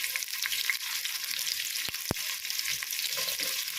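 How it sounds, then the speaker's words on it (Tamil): Onions frying in oil in a pressure cooker give a steady, close sizzle, with two short low knocks about two seconds in and no talking. "இப்போ வந்து வெங்காயம் எல்லாம் போட்டுக்கலாம். நல்லா வதங்கட்டும்."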